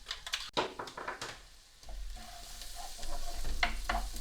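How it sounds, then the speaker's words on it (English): Garlic frying in a pan is stirred with a utensil: a few sharp scrapes and clatters up front, then a steady, close sizzle that grows louder toward the end. "Give that a stir quickly."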